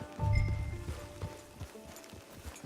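Horse hooves clip-clopping in Red Dead Redemption 2, a short run of soft, moderately close footfalls with faint game ambience and background music around them.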